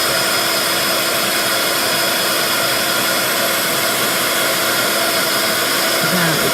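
A hair dryer drying a craft board blows loudly and steadily, a constant close whooshing roar that holds unchanged from start to finish.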